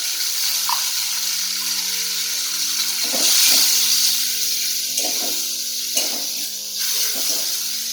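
Cumin powder fries in oil for a fish curry with a strong, steady sizzle and hiss, broken by repeated scraping strokes of a spoon stirring against the pan over a low hum.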